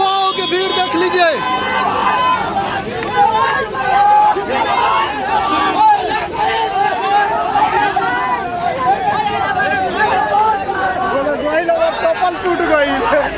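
Large crowd of young supporters gathered on a street to meet Manish Kashyap, a dense, loud hubbub of overlapping voices and shouts pressing close, continuous throughout with no lull.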